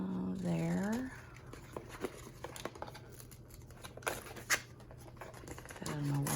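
Scissors snip through Scotch tape at close range, a few short crisp cuts and light crinkles, with a voice speaking briefly at the start and end.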